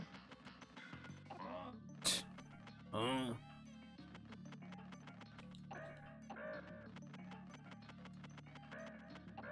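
Squawks the parrot from Donkey Kong Country 2 gives a couple of sharp squawks amid busy game music and chiming effects, the loudest cries near the start and around the third second.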